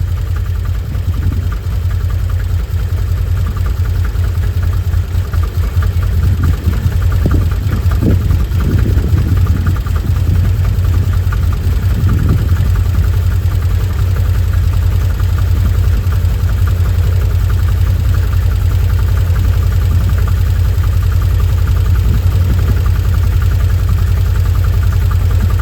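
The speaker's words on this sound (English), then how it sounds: "Sounds smoother. Sounds a lot smoother." A Can-Am Commander 800XT side-by-side idles after a spark plug change, its engine a loud, steady low rumble with a faint rhythmic tick, close up and unbroken for the whole stretch.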